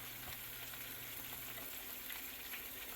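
Cheese pieces for Puerto Rican queso frito fry in shallow, spattering oil, a faint, continuous crackly hiss with small scattered pops.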